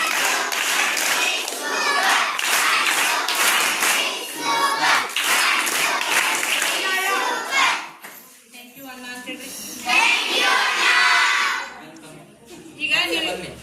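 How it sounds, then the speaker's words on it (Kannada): A group of schoolchildren on a field visit clap together in bursts of rapid, loud, rhythmic clapping, with children's voices calling out between and over the claps. "ಸೂಪರ್ ಚಪ್ಪಾಳೆಯ ಮೂಲಕ ಅಭಿನಂದನೆಗಳನ್ನು ಸಲ್ಲಿಸೋಣ"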